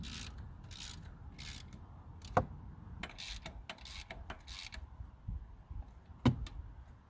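A ratchet tightens the alternator mounting bolts on a 1999–2006 Chevy Silverado, heard as close, repeated bursts of quick metallic clicking with short pauses between strokes over faint background rumble.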